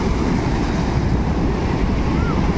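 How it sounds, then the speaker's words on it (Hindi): Sea waves surge and wash up over a coastal road, making a loud, continuous rushing roar with wind buffeting the microphone throughout. "देखिए ये वाला लहर चढ़ जाएगा ऊपर, ये वाला लहर ऊपर चढ़ जाएगा"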